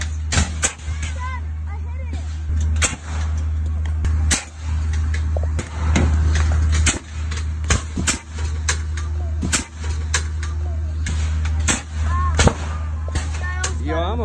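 Repeated sharp pops of a homemade apple cannon launching apples, about a dozen shots spaced irregularly over a steady low hum, with people talking between the blasts.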